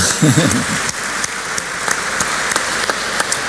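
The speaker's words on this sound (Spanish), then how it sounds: "Otro aplauso." An audience at a business forum claps in sustained applause, a dense patter of many hands with a few sharper claps poking through, and a voice calls out briefly near the start.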